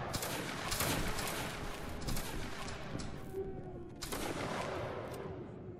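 A volley of gunfire fired on command, a dense crackle of overlapping shots, loud and continuous, with a few sharper bursts standing out and a faint voice underneath.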